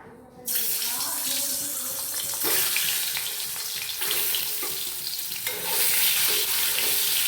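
Eggs frying in mustard oil in a wok, a loud sudden burst of hissing sizzle that continues dense and bright with occasional louder crackling surges.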